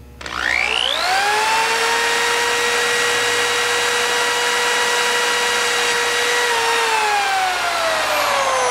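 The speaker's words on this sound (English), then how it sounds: "we're going to drill these two holes right here with our hand drill" A hand drill spins up to a steady whining motor tone, holding loud and continuous for several seconds while drilling holes in a T-strap, then winds down toward the end.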